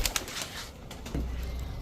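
Khaki pigeons kept in a loft coo softly in a low, murmuring run near the start, followed by a steady low hum of background; no one speaks.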